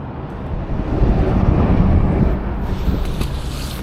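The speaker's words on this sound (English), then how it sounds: "It's super windy today." Strong wind by a river buffets the microphone in a loud, steady low roar that swells in the middle and eases slightly toward the end, with no talking.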